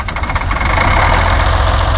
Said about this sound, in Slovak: Maserati má aj najlepšie znejúci dieselový motor spomedzi všetkých automobiliek.